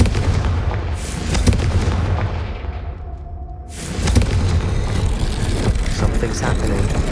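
A Confringo fire spell detonates in Hogwarts Legacy with a loud, booming blast that dies away, then a second explosive rumble follows and lingers, dense and close.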